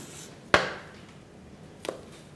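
Knife slitting a whole green chili on a cutting board, two short sharp cuts, the first louder and crisp, the second fainter, close and quiet with no talk.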